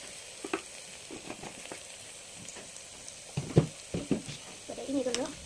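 Tomato rice frying in a pan as chili powder and turmeric are stirred in, a Kerala-style dish: soft sizzling under intermittent scraping stir strokes, quiet and close, with brief speech near the end.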